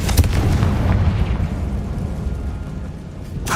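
A Confringo blasting spell goes off in the Hogwarts Legacy game with a loud, close, rumbling explosion that decays over a few seconds, followed by a sharp burst at the end.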